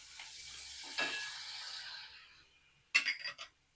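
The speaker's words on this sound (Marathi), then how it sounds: "मुगाची डाळ टाकून घेऊ" Moong dal added to a hot pan with cumin powder, coriander powder and turmeric, a faint soft sizzle followed by a short burst of scraping stirring near the end.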